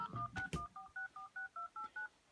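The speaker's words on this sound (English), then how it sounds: "I'll just dial the number with my landline cordless here." Touch-tone digits keyed on a cordless landline handset: about ten short, evenly spaced dual-tone beeps in a quick steady run, close and clear, with no talking.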